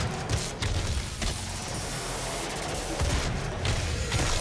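Rapid bursts of explosive weapon fire in Doom (2016) on PS4, dense booming shots repeating close and loud in clusters across the whole stretch.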